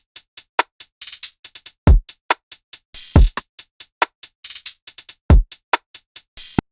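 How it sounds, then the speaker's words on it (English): Lo-fi drum set beat: a steady pattern of crisp hi-hat ticks with deep kick thumps and snare-like hits at regular intervals, played alone and up close. "And basically it's a drum set,"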